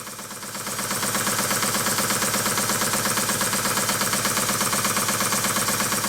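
A small Stuart model beam engine runs with a steady, rapid rhythmic knocking from worn parts, building up in the first second then holding a constant mechanical beat.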